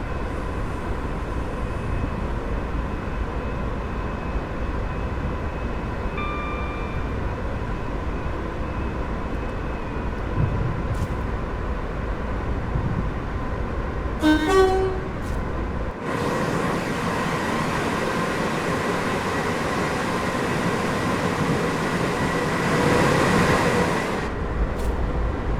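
A Class 350 electric multiple unit runs on the West Coast Main Line south in On Track Simulation 2019, heading toward Harrow and Wealdstone. A steady, loud rolling rumble fills the whole stretch, with a few faint clicks, and the tone shifts abruptly partway through.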